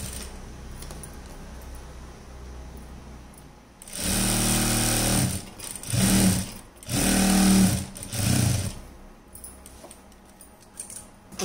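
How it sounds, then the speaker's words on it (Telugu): A sewing machine stitches a plain frock in several loud, close bursts of whirring motor and needle clatter, separated by short pauses, with quieter room sound before the first run. "క్లీన్గా స్టిచ్చింగ్ చేసుకొని"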